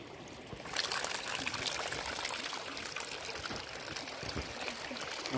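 Water pours in to refill a container, starting with a quiet lead-in, then a continuous close splashing stream with trickling texture that holds steady to the end.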